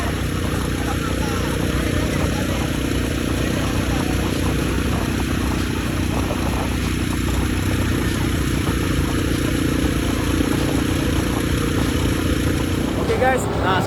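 A 200cc ATV engine runs steadily on a beach, a constant mid-pitched droning hum with wind and surf-like noise throughout, loud and unbroken, with no clear pauses.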